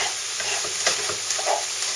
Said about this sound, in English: So we just keep frying this on high heat until a lot of that water and oil is cooked off.